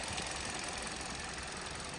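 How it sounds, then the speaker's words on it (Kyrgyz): A 2019 Hyundai Solaris with a 1.4 engine and automatic gearbox idling, a steady, even engine hum close by with a faint knocking texture and no one talking. "мотор жагы жакшы оталып турат"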